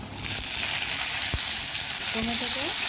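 Tomatoes fry in a pan with onions, chillies and bay leaves, giving a loud, continuous close sizzle. Occasional stirring knocks and faint background tones sit under the hiss.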